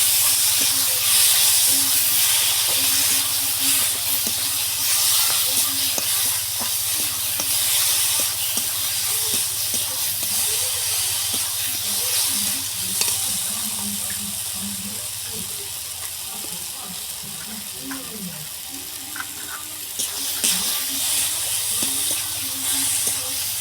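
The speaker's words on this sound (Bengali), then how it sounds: "পেঁয়াজ কলে দিয়ে দিদিভাই আরেকটু কষাচ্ছে" Onions fry and are stirred in a pan for a river fish curry, a continuous close sizzling hiss with scattered scraping taps that softens slightly midway before rising again.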